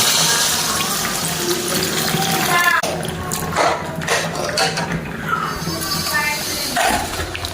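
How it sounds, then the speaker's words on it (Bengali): Water poured into a pot of chicken curry during home cooking, a steady splashing rush with occasional clatter of utensils, loud and close throughout. "এখন জল অ্যাড করবি"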